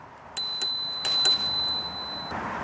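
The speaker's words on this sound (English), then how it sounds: "You've got your bell." A bell on a Gearstone electric scooter rings sharply several times up close, bright metallic dings with a lingering ringing tone and no talk.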